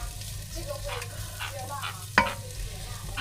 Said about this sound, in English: garlic and a little bit of chilli, and we'll just pop it in. And we just want to fry it gently